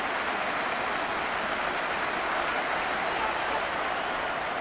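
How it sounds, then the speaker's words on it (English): A stadium crowd at a Falcons vs Bengals football game roars in a steady, dense wash of shouting and cheering throughout, loud and continuous with no distinct voices. "Plenty of shouts from this crowd as they watch the replay."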